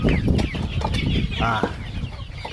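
A flock of chickens clucks and chatters nearby on a farm in Bohol, with one louder, drawn-out squawk in the middle and a rustle of movement around them.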